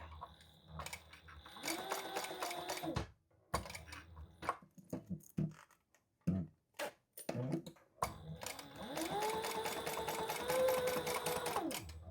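Sewing machine stitching around the inside zipper hole of a pocket on a white croc leather piece, running in two long steady bursts with a short stop-start section between them.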